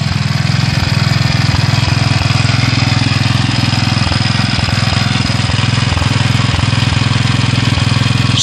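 A Villiers Mk 12 engine running on gas chugs at a loud, close, perfectly even idle with a regular low thump for the whole stretch, with nothing else heard over it.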